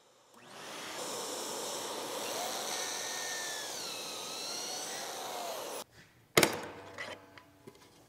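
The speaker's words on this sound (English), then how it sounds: "keep drilling down until the bottom of this collar stops on the top of the jig" A power drill bores a pocket hole through a jig while assembling a virtual pinball cabinet, a loud steady whine for nearly six seconds with pitch dipping under load, then stopping, followed by a sharp knock and brief handling clatter.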